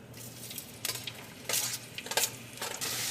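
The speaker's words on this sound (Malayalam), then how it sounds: "ഡ്രൈ എണ്ണയിലേക്ക് നമുക്ക് സവോളയും ഇഞ്ചിയും വെളുത്തുള്ളിയും പച്ചമുളകും ഇട്ടിട്ടൊന്ന് വഴറ്റാം" Onion, ginger, garlic and green chilli sauté in coconut oil in a clay pot, giving a steady close sizzle broken by bursts of stirring and scraping. No one talks.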